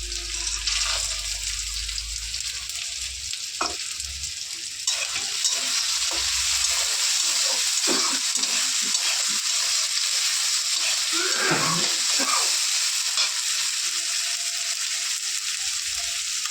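Peanuts dropped into a hot frying pan for chirar polau (flattened rice pilaf), a loud steady sizzle that swells after a few seconds, with occasional stirring scrapes and clicks, close and with no talk.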